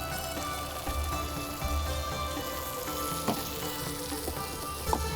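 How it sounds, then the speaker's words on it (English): A minced-meat and potato keema mixture crackles and sizzles in a hot pan as it goes into the onions, a dense continuous frying hiss with a few sharp scrapes and pops. "Just mix it up once and transfer all of this into the onions."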